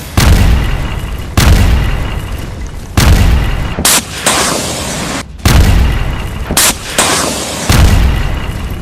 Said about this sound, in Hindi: कंधे पर रखकर दागी गई मिसाइल ने टैंक की धज्जियां उड़ाई।